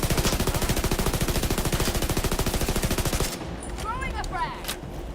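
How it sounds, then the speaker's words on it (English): Sustained rapid automatic gunfire from a shooter in The Division 2, a loud, dense stream of shots for about three seconds, then cutting off to quieter in-game ambience with faint chirping effects. "Firing on hostile."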